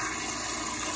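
Cooking ingredients for grilled chicken legs are rinsed under a tap, with a steady rush of running water that stays loud and continuous throughout.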